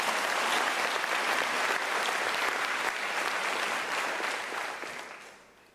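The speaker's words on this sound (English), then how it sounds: "I believe Professor Johnstone deserves another firm round of applause." Graduation ceremony audience applauding in a large hall, a steady dense round of clapping that holds evenly and then fades out toward the end.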